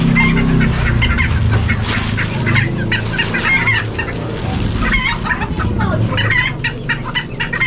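Chickens, including large Brahma-type birds, cluck and squawk at a busy outdoor pet market, a dense loud chorus of overlapping calls that keeps up throughout.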